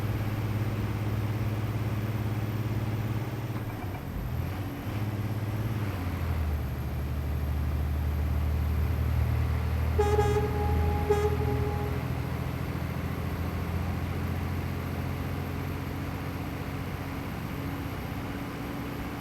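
A low, steady Scania truck engine drone in Euro Truck Simulator 2 with a sound mod, a brief whining tone partway through, continuous and fairly loud, with no speech.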